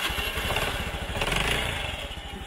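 Honda motorbike engine running close by, a rapid throbbing putter with a steady pulsing beat and a slight swell in revs midway through the short burst, with no talk over it.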